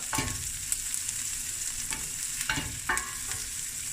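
Sliced shallots fry in a pan with a close, steady sizzle, broken by several sharp scraping stirs at irregular intervals.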